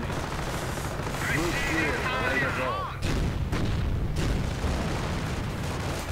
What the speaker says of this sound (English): Grenades getting dropped right there.